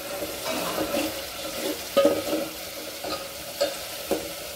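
A garlic tempering for spicy moong dal cooking in oil until the oil separates, a steady frying sizzle with several sharp clinks and scrapes from stirring, close and unaccompanied by speech.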